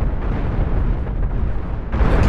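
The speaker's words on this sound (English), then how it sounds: "The cannons aren't the most accurate" Cannon fire in a Cosmoteer spaceship battle, a loud continuous rumble of blasts and booms with a fresh burst near the end, no talking.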